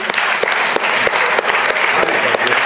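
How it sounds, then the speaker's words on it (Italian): An audience at an Italian talk event applauds loudly, a full, sustained round of clapping with a few crisp claps popping out close by. "un altro applauso"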